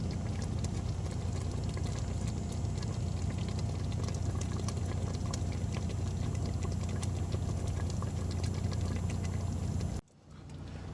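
Spaghetti meatball sauce simmers in a pan while someone cooks inside a semi-truck. A steady, dense bubbling and hiss runs unbroken for about ten seconds, then cuts off abruptly.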